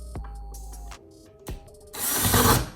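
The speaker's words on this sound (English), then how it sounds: "I'm just gonna drill the screws into the drywall anchor" A power drill driving screws into drywall anchors while hanging a curtain bracket, with short bursts of motor whine and ratcheting clicks, then a louder sustained grinding spin near the end.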